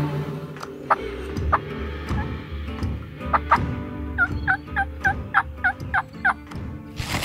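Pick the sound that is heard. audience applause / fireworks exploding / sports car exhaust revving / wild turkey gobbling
wild turkey gobbling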